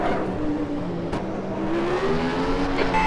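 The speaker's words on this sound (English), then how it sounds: "You can hear me over the sound of the engine." F1 race car engine at Imola in a 1996-season racing sim, a continuous high droning whine that rises in pitch as the car accelerates, loud and steady throughout.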